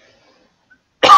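A single sharp cough bursts out abruptly after near silence, close and loud.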